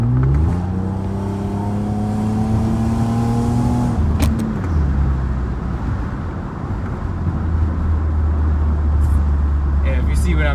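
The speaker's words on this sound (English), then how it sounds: "if I want to downshift in this car, it takes at least a second" A BMW E34 525i engine drops in revs as the gearbox downshifts, its steady drone sliding lower before settling into a rumbling idle-like hum, heard from inside the car with road noise throughout.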